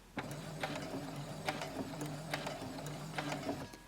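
Domestic sewing machine stitching forward a few stitches, with the needle planted before starting: a close, steady mechanical whirring with quick rhythmic clicking pulses of the needle, heard alone.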